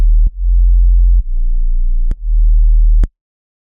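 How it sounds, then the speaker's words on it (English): A clean, low sine sub-bass from the Serum 2 synth holding sustained notes, cut by a few short clicks between them, steady and loud with no other sounds. "the sub is just a clean sine wave"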